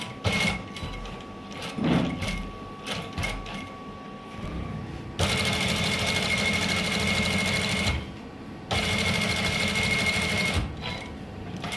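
A sewing machine stitches the final seam of a pleated sleeve, running in long steady bursts with short pauses between, close and loud, the motor hum and rapid needle chatter filling each run.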